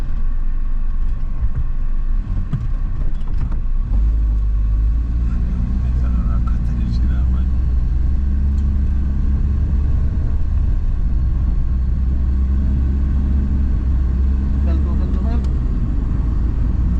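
A Suzuki Alto 660cc small car cruising on the motorway from Islamabad to Peshawar, a steady low engine and road rumble filling the cabin, loud and constant while someone talks over it.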